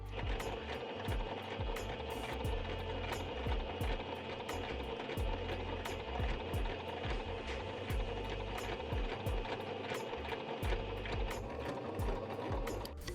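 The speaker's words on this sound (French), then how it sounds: "Donc je vais passer à la première partie couture" A sewing machine stitching a skater skirt runs in a steady, fast mechanical clatter, close and continuous for over ten seconds with regular rapid needle strokes and no talk.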